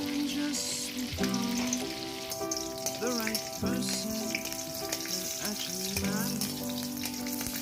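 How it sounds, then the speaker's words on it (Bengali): Mustard seeds, nigella and green chilli crackle and sizzle loudly in a little hot oil. Several spatula scrapes cut through, and a tonal hum runs in the background. "তেলের উপর সর্ষে দিয়ে কালো জিরে দিচ্ছি"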